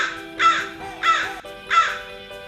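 Three loud, harsh crow caws come in an even rhythm, close and clear, with no other sound.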